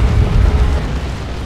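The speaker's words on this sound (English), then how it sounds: "Melta Bomb on rear armor" A melta bomb detonates on a vehicle's rear armor in Dawn of War 2, a loud, sustained low-frequency boom that rumbles for over a second and slowly fades.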